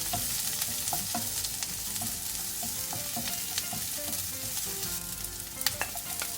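Chopped onion and garlic sauté in hot oil in a pan for Filipino totsong bangus, giving a steady close sizzle broken by scraping stirs and light utensil taps, with no talking.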